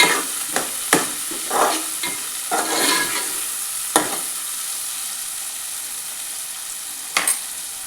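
Onion and tomato frying in a pan, a constant loud sizzle with occasional scraping knocks of a spatula as the mixture is stirred, close and without voices.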